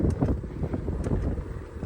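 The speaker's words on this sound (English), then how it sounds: "Horribly windy though" Wind buffets the microphone in a constant low rumble with gusty fluctuations, loud and close, on a gravel bike ride near Horseshoe Lake, Illinois, with no other sounds standing out.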